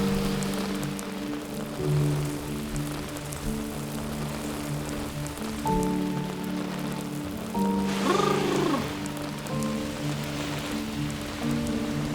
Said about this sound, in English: Getting slammed by a tropical storm right now.